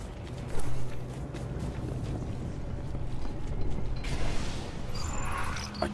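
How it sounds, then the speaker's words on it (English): A heavy gate mechanism grinding open in the video game Destiny, a creaking, ratcheting mechanical rumble that swells in the second half with bright metallic shimmer, no voices. "I'll try to open that gate."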